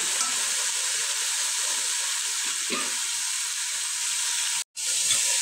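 Ginger and garlic paste fries in a pan for khichuri, a steady, loud sizzle and hiss running throughout with a faint stir near the middle and a brief dropout near the end; no talking.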